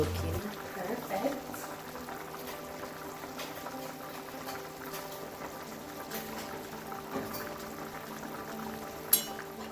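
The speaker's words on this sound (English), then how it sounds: "It's time for us to check on our pot, and it is bubbling and looking perfect." A pot of Jamaican-style steamed fish simmers on a stove, giving a faint, steady bubbling and gentle liquid churning throughout, with a brief louder clink near the end.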